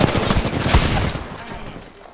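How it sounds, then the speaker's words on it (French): Bursts of rapid gunfire in the Apex Legends battle royale, dense automatic fire and shots crowding the first second, then thinning and fading toward the end, with no talk. "On me tire dessus."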